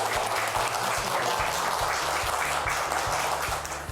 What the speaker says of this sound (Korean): 오늘 정말 좋은 강연해주신 자문관님께 다시 한번 큰 박수 부탁드립니다.